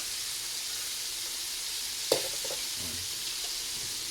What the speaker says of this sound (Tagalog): Magigisa na siya ng bawang mga idol.